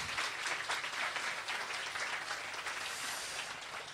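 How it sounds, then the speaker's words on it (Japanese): An audience at an OWASP Night security meetup in Japan applauds, with steady, dense clapping that holds for several seconds and fades slightly at the end, with no voices over it. "皆さん拍手お願いします。"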